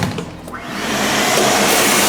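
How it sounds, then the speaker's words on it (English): A vacuum cleaning out a chamber of the sump beneath a 550-gallon aquarium, giving a steady, loud broadband roar with a brief suction gurgle near the start, close up with no talk. "let's vacuum this chamber too."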